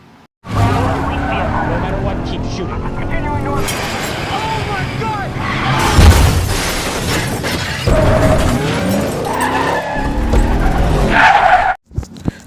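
A car chase from the 2014 film Nightcrawler, with loud tire skids and squeals, engine roar and crashing impacts as cars overturn, filling the scene almost continuously before cutting off sharply at the end.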